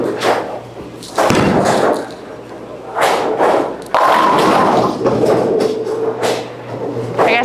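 A Hammer Special Effect bowling ball, a solid coverstock, thuds onto the lane and rolls away with a low, rumbling roar. Heavy thumps and clatter punctuate the rolling, and the alley's background noise carries throughout.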